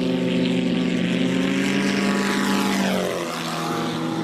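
An autogyro taxis on a runway, its propeller engine droning loud and close with a steady buzzing tone that drops in pitch near the end.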